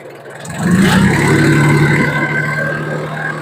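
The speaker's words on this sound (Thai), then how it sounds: "เร่งเครื่องหน่อย ไปได้กว้างเลยครับ เร่งเครื่องหน่อย" Engine of an ISEKI or KUBOTA farm tractor revving up, a steady mid-pitched drone that rises after a quick throttle-up and holds loud and close, with no talk over it.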